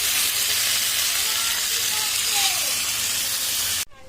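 Water poured into a pan of frying spices, potato and plantain gives a loud, steady hiss and sizzle that holds evenly and cuts off abruptly near the end.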